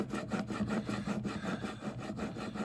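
A Wood River jack plane blade is rubbed back and forth on a sharpening stone to put on a micro bevel. The scraping strokes are close and rhythmic and repeat steadily throughout.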